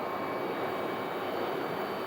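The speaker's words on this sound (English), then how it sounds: "there is the mighty Max, 737 Max 8." Boeing 737 Max 8 airliner taking off at Phoenix Sky Harbor airport: a steady broad jet engine roar, distant but loud and unbroken, with no voices.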